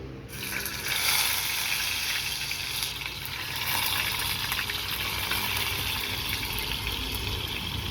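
Tofu fries in hot oil for kangkong adobo, a loud, dense and continuous sizzle that stays close and unbroken throughout.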